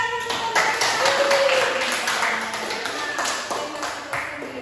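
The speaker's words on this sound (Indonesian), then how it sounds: "Oke, tepuk tangan untuk peserta." A small group claps for participants at an Indonesian-language class competition final, a brief burst of loud, close, fairly even clapping with voices mixed in.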